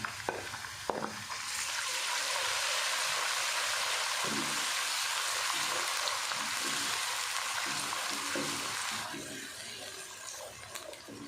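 Ginger garlic paste sizzles and fries steadily in a hot pan, a bright hiss with occasional stirring scrapes, close and continuous before fading slightly.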